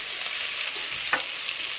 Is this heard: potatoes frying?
yes